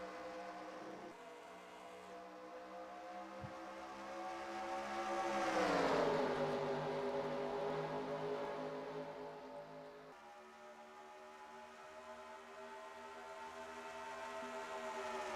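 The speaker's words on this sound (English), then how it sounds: "All I hear is the sweet sound of those engines revving up to full power." Race car engines in a Talladega stock car racing game drone loudly and steadily as a pack passes, swelling to a Doppler-like peak midway and then settling back to a continuous roar.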